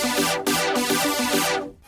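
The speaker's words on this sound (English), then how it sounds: "this sound from Xenology, Super Saw Pluck" A bright Super Saw Pluck synth patch from Xenology plays a quick rhythmic figure of repeated, wide-spectrum plucked notes, loud and alone, with short gaps between phrases.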